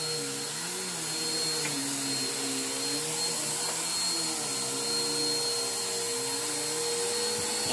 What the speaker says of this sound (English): Run that vacuum.